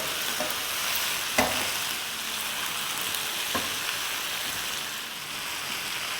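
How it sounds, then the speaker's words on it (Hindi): Tomato and okra masala for bhindi sabzi fries in a pan with a continuous dense hiss, broken by a couple of sharp utensil knocks while being stirred; no one speaks. "तो ये डाल देंगे 1 टमाटर। इसको 2 मिनट भून लेंगे।"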